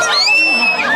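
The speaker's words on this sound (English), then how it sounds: "Let's give him a cheer." A crowd cheering for Greg at a cold-water freeze event, a loud continuous swell of shouts and whoops filling the whole moment, close and dense.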